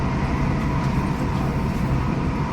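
A train running through the French countryside on a route from Paris to Granville, with a steady, loud, rumbling carriage noise that continues evenly throughout.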